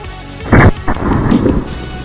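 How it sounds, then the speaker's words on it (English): A single loud, booming shot from a 460 Smith & Wesson Magnum revolver, a sharp blast followed by a rolling echo that trails off over about a second. "Now time for the much bigger 460 Smith & Wesson Magnum."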